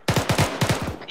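Rapid gunfire from an Arma military simulation, a burst of about eight close, loud shots in quick uneven succession, each with a sharp crack and low thump, with no talking.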